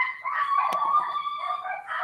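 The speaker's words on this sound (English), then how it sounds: "sorry about the dogs." Stray dogs bark and howl at a moderate distance in the Dominican Republic, a drawn-out wavering canine cry with a brief sharp yip partway through, heard without talk.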